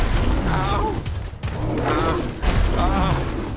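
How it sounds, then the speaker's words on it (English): Gunfire in the video game Fallout 4, a loud, dense run of repeated shots and mechanical clatter that continues with brief lulls, with a voice mixed in underneath. "Keep shooting"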